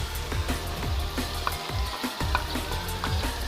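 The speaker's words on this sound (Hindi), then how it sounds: "प्याज हम करेंगे लाइट ब्राउन" Onions fry in oil in a wok for a chicken boneless handi, giving a dense, steady sizzle with crackles and scraping stirs. It plays close and alone, with no speech.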